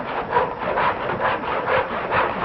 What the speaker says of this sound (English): he's sawing this limb